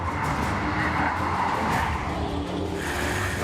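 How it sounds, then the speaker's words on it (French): The tyres of a Porsche Cayenne Turbo Hybrid SUV squeal as it corners at speed on a race circuit, a continuous hissing screech laid over loud, steady engine and road roar. "Je sais pas si vous entendez les pneus, mais ça couine."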